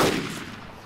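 A gunshot in the DayZ video game: one loud, sharp report at the very start, with a fading tail behind it and no talk.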